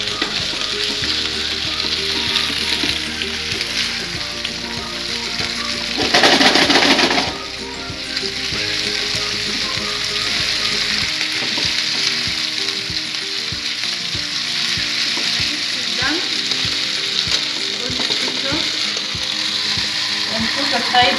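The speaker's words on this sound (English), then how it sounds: "We are just going to fry it till the color change." Beef sizzles loudly in a hot pan for a Chinese-style stir-fry noodle dish, a continuous dense crackle with a brief louder burst of stirring early on, close and steady, with no talking.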